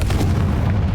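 Confringo blasting spell going off in Hogwarts Legacy, a loud, heavy boom with deep low rumble that fills the whole second without a break.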